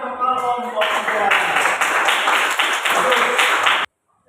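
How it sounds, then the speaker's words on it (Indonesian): A group of people applauding at an Indonesian Independence Day 80th anniversary class event, with brisk steady clapping close by that starts after brief speech and stops abruptly. "Tepuk tangan untuk kelompok 1"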